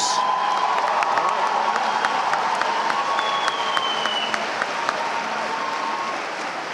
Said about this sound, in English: let's commend these graduates with a round of applause